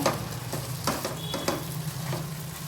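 A spoon scrapes and stirs yogurt and cashew paste through sizzling oil in a pan for a Bengali cashew prawn curry, with a few quick strokes over a soft constant fry.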